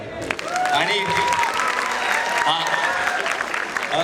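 An audience claps loudly and steadily at a live college stage event, a dense continuous wash of applause, while someone speaks over it on a microphone.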